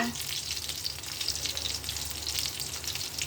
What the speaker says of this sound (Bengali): পেঁয়াজ ভাজি করছি